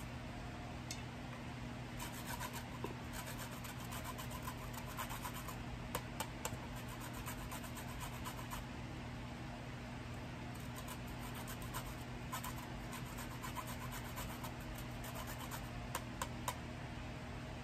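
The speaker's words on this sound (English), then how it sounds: "And then we're going to use some lime zest." Lime zest being grated for a citrus foot soak, a steady, quiet scraping that continues almost unbroken over a low background hum, with faint bursts of rubbing and no talking.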